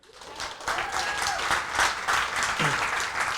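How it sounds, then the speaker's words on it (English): An audience at a talk breaks into sustained applause, many hands clapping together loudly and evenly for several seconds. "Let's have a round of applause for Nietzsche."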